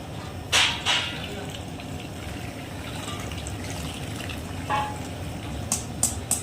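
Water poured into a pan of sizzling pav bhaji, with a steady hiss and bubbling frying sound throughout and a few sharp clinks of utensils.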